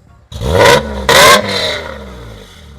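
A Mercedes W124 car engine revs hard twice in quick succession, each loud burst dropping back to a rough idle, heard up close.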